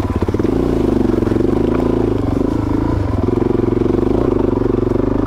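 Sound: Suzuki DRZ400 dual sport motorcycle riding single track

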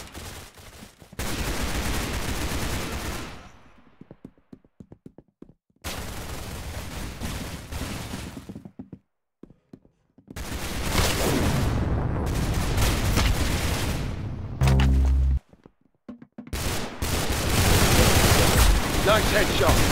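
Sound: gunfire in video game Roblox Arsenal

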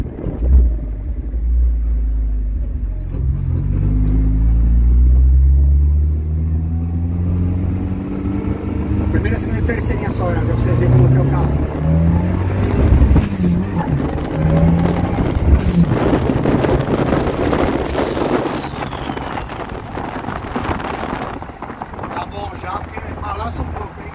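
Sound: dune buggy engine running with intercooler

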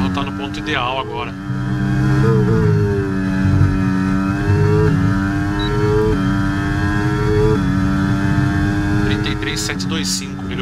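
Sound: racing car engine revving on track, F1 23 video game

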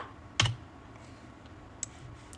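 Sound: computer keyboard key press

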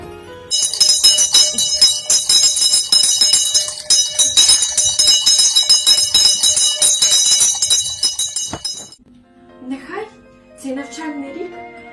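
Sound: school first bell ringing on first day of school

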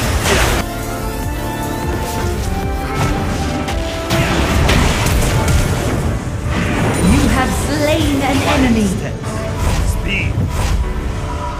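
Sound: turret being destroyed in the video game League of Legends: Wild Rift

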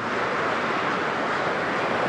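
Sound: wind blowing outdoors

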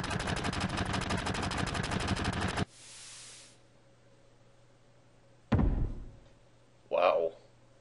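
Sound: gunfire in the video game Final Fantasy VII

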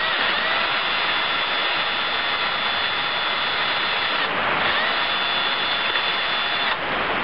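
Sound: rechargeable drill reaming holes

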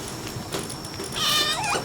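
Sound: cat creature meowing in the video game Palworld

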